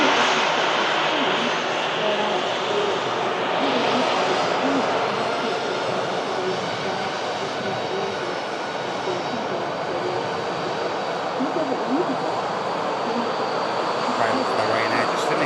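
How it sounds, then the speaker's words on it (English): A Ryanair airliner's engines as it begins taxiing, a steady broad roar and whine from moderate distance holding level for the whole stretch, with a voice talking over it. "Ryanair just initiating the taxi."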